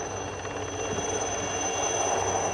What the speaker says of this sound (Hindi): जहां हेलीकॉप्टर समुद्र की सतह से ठीक ऊपर मंडराते हुए विंच के जरिए गोताखोर को नीचे भेजता है